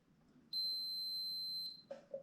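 A continuity tester, touched to a ground source while wiring a 12V DC LED headlight conversion, gives one clear sustained high beep of about a second, fairly quiet and alone, followed by a couple of faint clicks.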